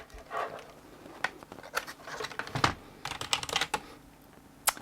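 The detachable keyboard of a 1980s Compaq SLT 386s luggable computer is handled close by, giving light, irregular clicks and plastic taps from keys and fold-out legs, with no talk.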